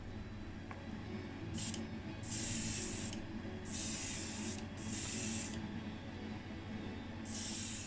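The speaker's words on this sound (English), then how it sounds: "we'll start off with a silver base coat" A spray gun lays a silver base coat over primer on a VW Beetle Baja Bug, hissing steadily in repeated bursts of a second or so with short pauses, close and loud over a constant low background hum.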